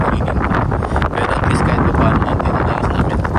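Strong wind buffets the microphone in a dense, roaring rush on a snowy winter day, steady and loud for the whole stretch.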